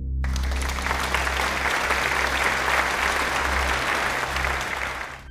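A dense burst of crowd applause sounds continuously for several seconds, loud and even, over a low droning hum, then fades slightly at the close.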